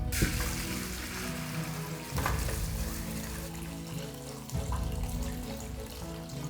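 Nutmeg wine pours steadily through a strainer in a continuous splashing stream, swelling twice as the flow surges, with no voices.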